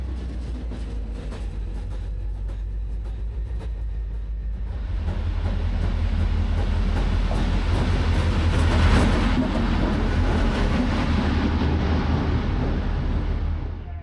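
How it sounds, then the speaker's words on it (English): A Hungarian locomotive running around its train at Tapolca terminus, a deep diesel drone that swells as it approaches and passes close by with rattling, rolling wheels, then holds steady before easing off. "our locomotive will now need to be run around to face the right direction to head back to Budapest"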